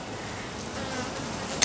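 Honeybees, mostly nurse bees, hum in a steady dense buzz close by as hive frames are lifted and moved into a new six-frame nuc box, with a small click near the end.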